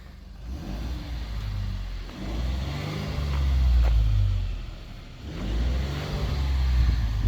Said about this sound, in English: Go ahead and rev it, Cody.